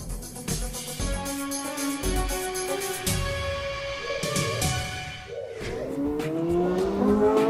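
A car engine revs and shifts gears up close, with tires squealing and other vehicles rushing past, loud and continuous throughout.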